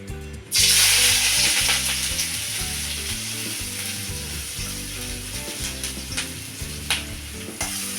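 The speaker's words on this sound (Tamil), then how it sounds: "எண்ணெய் சூடானதும் ஒரு பச்சை மிளகாய் ஒரு பெரிய வெங்காயம் ஒரு ஏழு எட்டு பல் பூண்டு இது எல்லாத்தையும் பொடியா நறுக்கி இந்த எண்ணெயில சேர்த்துக்கணும்" Green chili, a large onion and seven or eight garlic cloves, finely chopped, sizzling steadily in hot oil in a pan, a loud continuous fry with occasional stirring scrapes, starting abruptly as the ingredients hit the oil.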